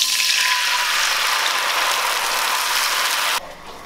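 Sauce for Thai cashew chicken hits a hot pan and sizzles loudly and steadily for a few seconds before cutting off abruptly, with no talking.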